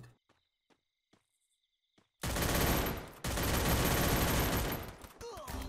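Loud gunfire in the video game Free Fire Max bursts out after a few faint clicks, a sustained roaring volley with a brief break, then continuing rapid shots.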